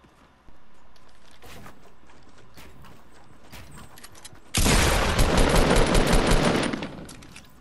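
Gunfire in a Fortnite video game battle: scattered shots over a steady background, then a loud, dense burst of rapid automatic fire that runs for several seconds before tapering off.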